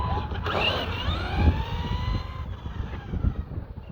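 Kyosho Mad Van RC car on a 2S LiPo battery driving over ground outdoors, its small electric motor whining steadily with rising and falling pitch as it speeds up, holding a constant buzz throughout without any talking.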